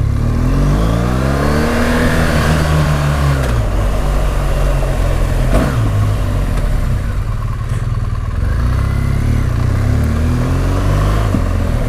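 BMW R 1200 GS Rallye motorcycle engine heard while riding: a loud, close, continuous engine drone that rises and falls in pitch as the rider revs and shifts through gears.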